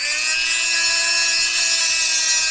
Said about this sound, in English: we're going to need to use my favorite tool, the Dremel, to clearance a little bit of the block